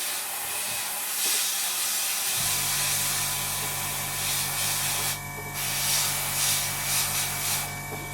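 An airbrush hisses steadily as paint is sprayed over the nose section of an Academy F-16I SUFA scale model kit, a constant close airy spray with a low hum joining in partway through.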